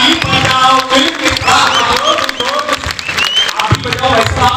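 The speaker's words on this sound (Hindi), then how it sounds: "ताली बजाओ मिलके" An audience at a Hindi poetry gathering claps and cheers together, a loud, dense wash of applause and crowd voices lasting throughout.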